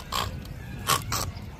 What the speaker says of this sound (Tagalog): Mga baboy oh.